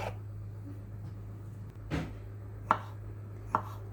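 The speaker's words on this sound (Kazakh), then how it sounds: "Жұмыртқаны тураймыз." A knife chops boiled eggs on a board in a quiet kitchen, a few sharp separate knocks spaced about a second apart over a low steady hum.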